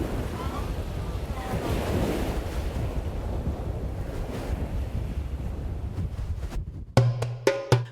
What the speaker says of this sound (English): facing the raging waves of the open seas